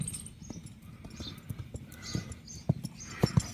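A horse moves about with soft scattered hoof clip-clops over a low background rumble, the few loudest thuds coming near the end.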